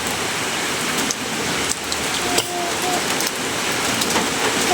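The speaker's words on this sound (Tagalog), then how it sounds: "nagkusog na gid ang uwan" Heavy rain during a typhoon in the Philippines, a dense steady hiss of downpour on surfaces with occasional sharper drop impacts, close and continuous without talk.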